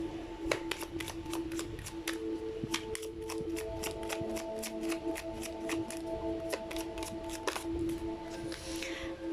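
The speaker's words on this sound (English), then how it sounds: "I'm going to pull up Romance Angel cards" Romance Angel oracle cards are shuffled by hand in a rapid series of crisp, close riffling flicks and slaps, with a few brief pauses between bursts and no talking.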